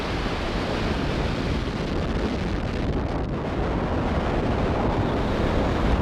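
A SpaceX Falcon Heavy rocket lifts off carrying the ViaSat-3 satellite, producing a steady, loud, broadband roar that fills the whole stretch without a break.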